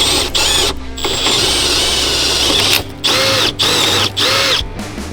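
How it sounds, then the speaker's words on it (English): A power drill bores into the ignition lock tumbler of a Thunderbird that sat unused for 16 years, whining loudly in several bursts broken by short pauses as the trigger is released and squeezed again. "we do have a drill with a drill bit"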